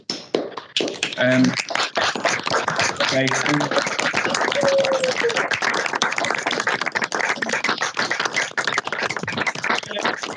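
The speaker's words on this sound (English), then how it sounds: "a massive round of applause to everyone now" Participants in an online recognition-of-learning event clap together as scattered, overlapping hand claps and taps continue steadily, mixed with brief voices, in a slightly clipped, close-miked room sound.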